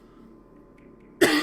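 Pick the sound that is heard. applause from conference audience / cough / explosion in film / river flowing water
cough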